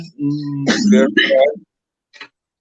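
A person coughs from cigar smoke and clears their throat in a few harsh bursts, close up, followed by a brief faint sound and silence.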